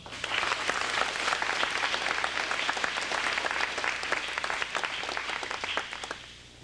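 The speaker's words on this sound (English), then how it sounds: "I'd like to give them an applause." Warm sustained applause from a banquet audience at a 1985 high school athletic awards dinner, many hands clapping together in a dense steady patter that fades out near the end.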